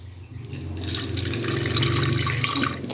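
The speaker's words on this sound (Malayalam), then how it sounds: "ഇത്തിരി വെള്ളം ഒഴിച്ചു കൊടുക്കാം." Water poured into a pot of chicken marinated with chili powder and garam masala, a close, steady pouring splash that swells after a quiet start and runs for a few seconds.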